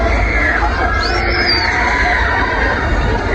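Crowd of people screaming and shouting on a swing ride at a park at Abdullah Shah Ghazi, a loud, continuous mass of excited voices with a brief rising shriek standing out.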